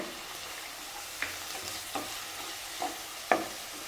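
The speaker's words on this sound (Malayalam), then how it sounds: "ഞാനിപ്പോൾ ഒരു കടായി വെച്ച് ഒരു സ്പൂൺ എണ്ണ ചേർത്ത് കൊടുത്തിട്ടുണ്ട് അതിലേക്ക് ഞാൻ ഈ വഴറ്റിയത് ഇട്ട് കൊടുക്കുകയാണ്" Onions and four slit green chillies fry in a kadai with a spoonful of oil for a chicken curry, a steady close sizzle punctuated by four sharp clicks of a spoon against the pan.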